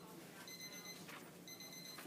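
A classroom timer beeps in two short electronic bursts about a second apart, faint and thin against quiet room noise.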